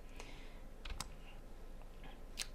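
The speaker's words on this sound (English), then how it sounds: "I'm going to hit delete on my keyboard." A few sparse clicks of keys on a computer keyboard while modelling in 3D software, quiet and close, with one sharper keypress standing out near the end.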